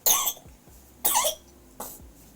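A baby coughs three times in quick succession, short sharp bursts each followed by a brief wheezy tail, close and clear with quiet between.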